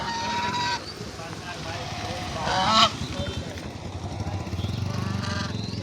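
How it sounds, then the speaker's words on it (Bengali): Domestic geese in a flock give scattered honks and calls around a person walking among them, with one louder burst near the middle over steady outdoor background noise. "এই অনেকগুলো রাজহাঁস দেখালাম"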